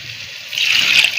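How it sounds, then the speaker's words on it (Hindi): A short, close splash of water being poured into a pot of mutton curry, swelling briefly in a rushing gush. "और थोड़ा सा पानी डाल देंगे।"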